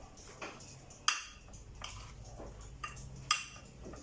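A spoon clinks against a bowl while crushed chilli pickle with tamarind is mixed, a few sharp metallic taps spaced apart over soft scraping, quiet and close.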